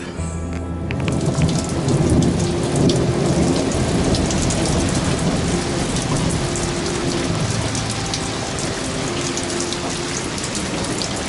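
Heavy rain pours steadily during a night thunderstorm on the Gold Coast, with rolling thunder rumbling underneath; the dense downpour is loud and continuous with no voices.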